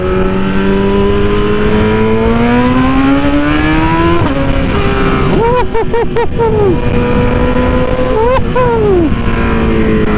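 A 2020 BMW motorcycle engine rises and falls through several strong revving climbs, then snaps through quick up-down blips near the end. It is loud and close with steady wind noise and no talk over it.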